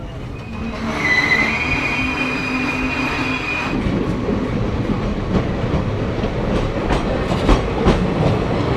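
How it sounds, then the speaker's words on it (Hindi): A passenger train departs Pataudi Road, a small three-platform station, heard from on board: a high wheel squeal and hum fade into rising rumble and rhythmic clickety-clack of wheels over rail joints, loud and steady. "हो गया पटौदी रोड से डिपार्चर।"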